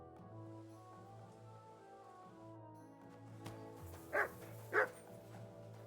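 A dog in the medieval open-world game Kingdom Come: Deliverance 2 gives two short, fairly close barks in quick succession, rising over steady in-game music in the background.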